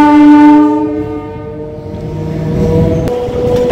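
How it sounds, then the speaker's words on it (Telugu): A MEMU passenger train pulls out of Tadepalligudem station, its horn blaring loud and close in a long harmonic blast that fades into rolling carriage noise, with a sharp click near the end. "మన ట్రైన్ అయితే తాడేపల్లిగూడెం స్టేషన్ నుండి అయితే బయలుదేరిపోయింది"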